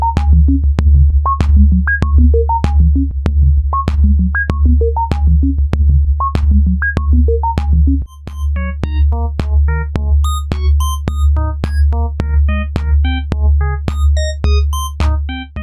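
A Blue Lantern Modular Vintage Asteroid kick drum module pounds out a steady, booming low kick pattern with clicky attacks, joined halfway through by a bright, fast sequence of high synth blips, loud and without talk.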